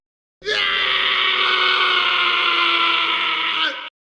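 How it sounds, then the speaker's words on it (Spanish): Goku, voiced in a Spanish-language Dragon Ball Z and Fate fan audio drama, lets out one long, loud, strained scream of agonizing pain lasting over three seconds, then cuts off abruptly. "Gritó Goku, en un agónico dolor."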